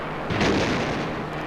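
The explosion of an Ohka rocket-powered kamikaze aircraft striking a destroyer makes a short, heavy blast that swells and then rumbles away over about a second and a half.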